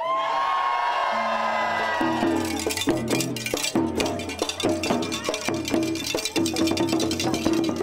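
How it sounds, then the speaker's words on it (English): A crowd in Key West whoops and cheers over loud music with rhythmic percussion, the shouting sustained and energetic throughout. "I want to hear everybody scream as loud as you can."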